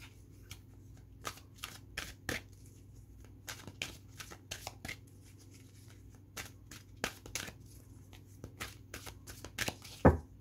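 Tarot cards being shuffled by hand make quiet, close bursts of rapid papery riffling, repeated at uneven intervals, with a brief sharper swish near the end.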